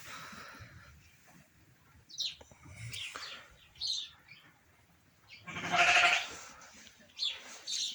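Sheep and lambs in a pen on a farm give several short bleats, one louder and closer, mixed with faint chirping in a quiet setting.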